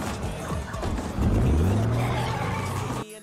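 A car in PUBG pulls away with a loud, rising engine roar and a long tire skid, close and continuous for about three seconds before cutting off abruptly.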